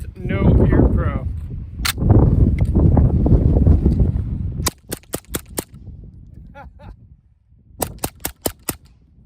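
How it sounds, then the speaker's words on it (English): Suppressed gunshots from a rifle fitted with a Resilient Ramblin Man suppressor on a windy outdoor range, someone talking first over gusting wind, then a string of sharp reports, a pause, and a second quick burst of shots. "Let's see how this suppressor sounds with no ear pro."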